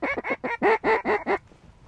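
Wild ducks, a wigeon and hens, give seven quick, evenly spaced quacks at close range, loud and clear, before falling silent.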